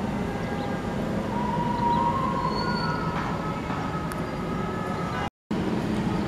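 Kereta lori rail inspection trolley rolling through the shunting yard at Garut station, a steady mid-distance rumble with faint metallic whines drifting over it, no voices.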